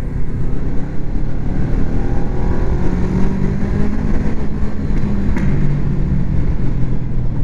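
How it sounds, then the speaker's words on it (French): A motorcycle engine revving loudly under a bridge, a dense, continuous low rumble reverberating close by for several seconds with no talk over it. "C'est le seul endroit où ma moto fait de bruit."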